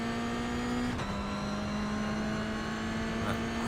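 A Toyota GR86 in the iRacing sim accelerates out of a corner at Virginia International Raceway South, a steady loud engine drone climbing through first gear, with a brief dip at an upshift, heard alone.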